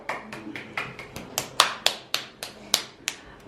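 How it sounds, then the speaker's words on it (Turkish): A few people clap irregularly at a home gender-reveal party. The claps are sharp and close, with a light scatter of hands and no talk over them. "Alkış yap bir de."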